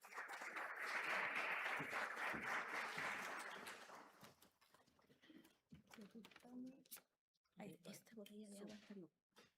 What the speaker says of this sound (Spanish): Recibamos entonces con un gran aplauso a nuestra primera expositora